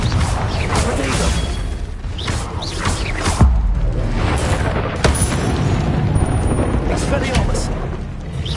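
Repeated spell blasts and booming magical explosions from Hogwarts Legacy combat on PS4, a dense, continuous barrage of thuds, crashes and whooshes with sharp impacts around the midpoint and near the end, a voice speaking over the action.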